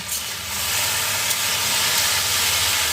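Sliced okra frying in a hot pan, a steady dense sizzle and hiss that holds evenly throughout, close and fairly loud with no talking.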